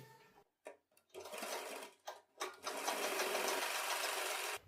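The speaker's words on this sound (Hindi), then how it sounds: "और इसी प्रकार से हम दूसरी वाली किनार पर भी सिलाई लगा देंगे।" A sewing machine stitching piping onto a garment sleeve, starting in short bursts with pauses, then running in one continuous mechanical whir before stopping abruptly.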